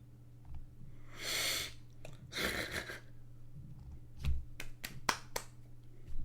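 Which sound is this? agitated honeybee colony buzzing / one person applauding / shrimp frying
one person applauding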